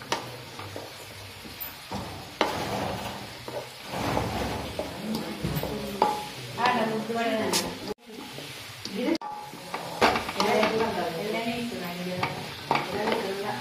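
Garlic and ginger fry in a pan for chicken chilli, a loud sizzle with busy stirring and scraping up close, while voices talk over the cooking.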